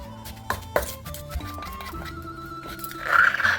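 Seasoning and salt being pounded in a mortar for Thai chili paste, a few sharp knocks early on followed by softer grinding, close and with no talk.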